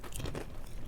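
Crunchy seasoned snack bitten and chewed up close, a burst of dry crackling crunches followed by quieter chewing.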